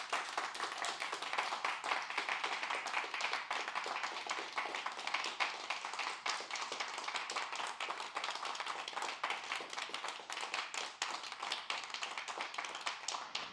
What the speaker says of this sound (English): Clap it out for her.